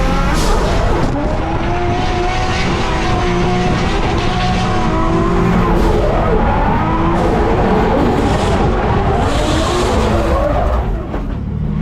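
A drift car engine roars continuously at close range after an impact, revving hard and steadily at full throttle, with tire noise and shifting pitch throughout.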